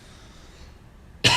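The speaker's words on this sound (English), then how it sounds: "Sorry, guys, I'm coughing." A single sharp cough bursts out abruptly at the very end after a quiet, faintly hissing moment, loud and close.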